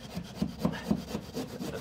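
Handsaw cutting through plasterboard in a garden room build, with a steady back-and-forth rasping stroke rhythm of about four strokes a second, close and fairly quiet, with no talking.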